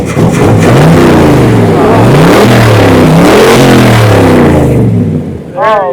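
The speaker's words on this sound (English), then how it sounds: "Oh, there's the Chevy sound." A 1966 Chevrolet Corvette with a 427 big-block engine revs loudly and close, its deep rumble rising and falling in several throttle blips while people talk over it, before the engine note fades near the end.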